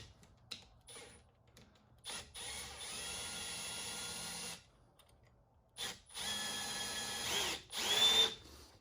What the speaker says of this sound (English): you want to grind the ring down